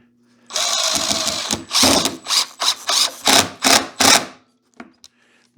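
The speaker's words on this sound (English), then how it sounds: "because I'm using screws now, I can put a screw in that first position" A power drill drives a long screw into a wooden beehive frame, a close whirring run followed by about six short pulsed bursts as the screw seats, then brief faint clicks, with no talking.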